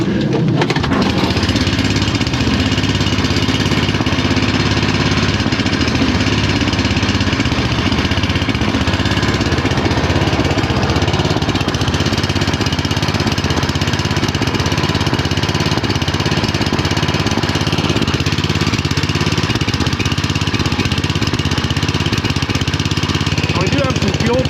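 Tecumseh-engined snow blower, primed and choked, starting and then running: a steady mid-pitched small-engine drone that holds fairly loud for the whole stretch.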